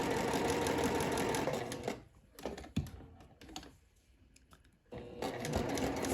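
Sewing machine stitching a French seam pocket, bursts of rapid close mechanical stitching at the start and end with a quieter pause and a few clunks between.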